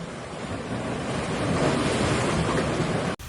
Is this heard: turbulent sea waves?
yes